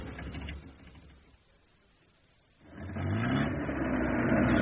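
A car engine idles quietly, drops away briefly, then swells into a louder, rising rev as the car pulls off, close by, with no talk over it.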